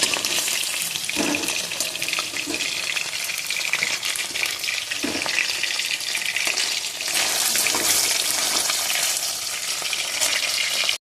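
Continuous loud sizzling of chicken pieces frying in hot oil, with occasional clinks and stirring sounds throughout.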